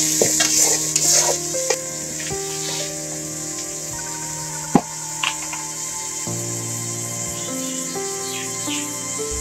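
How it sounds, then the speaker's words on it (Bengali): Cut amla stirred with spices in a frying pan crackles and sizzles loudly and close, with scattered scraping strokes over a steady humming, tonal background. "এখন আমি কেটে রাখা আমলকিগুলো দিয়ে দিলাম। এরপর মশলার সাথে ভালোভাবে নেড়ে চেড়ে নিলাম।"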